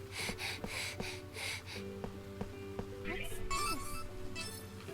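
A Death End Re;Quest character breathes heavily in quick, rhythmic huffs over looping game music, the breaths fading as tonal sound effects take over.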